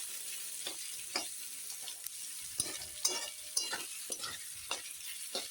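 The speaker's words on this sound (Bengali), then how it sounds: "এই পেঁয়াজগুলো দিয়ে দিলাম এই বেরেস্তার জন্য ভেজে নেব এখন একটু নেড়ে দিই এটা হাই হিটেই ভাজতে হবে" Sliced onions frying on high heat until crisp and brown, a soft, hissy sizzle broken by regular light stirring scrapes, fairly quiet and with nobody speaking.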